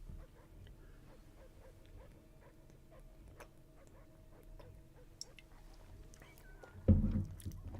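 A dog dying in the film Signs, faint whimpers and yelps over a dark, low ambient drone, ending in a sudden loud crash of noise.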